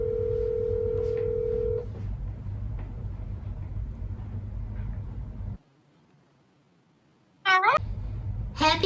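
A telephone dial tone hums steadily before cutting out, then after a brief silence short bursts of touch-tone dialing beeps sound as a call is placed, with faint background chatter.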